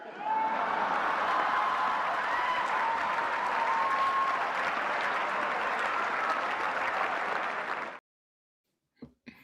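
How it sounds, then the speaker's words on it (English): Thunderous applause from a comedy club audience, a loud, dense roar of clapping and crowd noise with a faint whoop inside it, holding steady for about eight seconds before cutting off abruptly, followed by a couple of small knocks. "you heard the thunderous applause"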